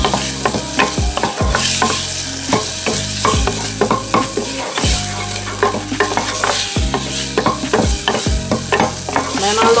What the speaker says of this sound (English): I'm gonna saute that off a little bit. Saute it off real good.